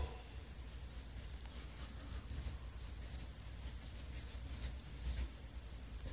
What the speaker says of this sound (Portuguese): A caneta está falhando, viu?